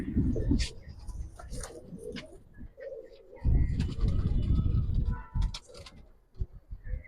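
Silver pankhi and cobra pigeons coo in a market setting, low throaty calls rising and falling over about seven seconds, with a few higher chirps mixed in and a busy background.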